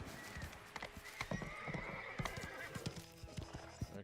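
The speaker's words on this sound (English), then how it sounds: "Oh wow, this horse sucks." Horse hooves clip-clopping in the video game Mafia: The Old Country, a steady run of close hoof beats with a whinny, loud and heard without talk.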